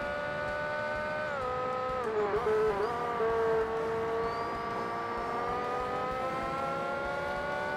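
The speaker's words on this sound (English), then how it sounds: "That car behind sounds so weird. It's got another oscillating engine thing." Race car engines in the Forza Motorsport racing game, with a following car's engine droning in a steady oscillating whine behind the player's car, pitch sliding up and down over several seconds, no talk.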